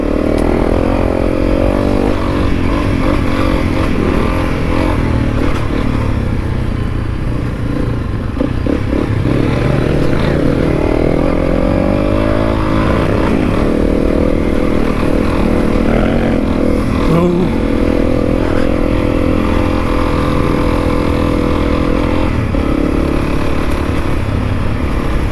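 Honda CRF300L and Yamaha T7 dirt motorcycles ride along an off-road trail, a loud, continuous engine drone from close by that rises and falls with throttle over wind and rattling.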